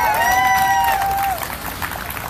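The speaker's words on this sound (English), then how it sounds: "please give her a round of applause" Crowd applause and cheering for Amber Allred at a tech talk, a dense wash of clapping that is loud at first, with a whoop or whistle over it, then eases down.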